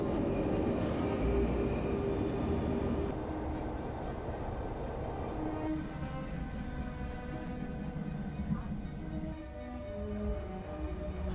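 A train rumbles loud and close at a railway station, a steady low roar with a tonal whine that shifts partway through as it moves, no voices over it.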